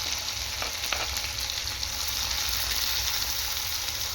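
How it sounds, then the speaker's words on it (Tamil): Cumin, onion and tomato fry in hot oil for a fish curry, giving a steady, close sizzle that runs without a break, with a couple of faint stirring clicks near the start. "ஜீரகம் போட்டுக்கிடுறேன். இப்போ வெங்காயம் போட்டுக்கிடுறேன். தக்காளி போட்டுக்கிடுறேன்."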